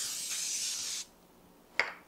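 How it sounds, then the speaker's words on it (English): A steady one-second hiss of flour-containing cooking spray onto a baking pan, then a pause and a short, sharp second spray burst, close and fairly quiet. "I have this spray that has flour in it"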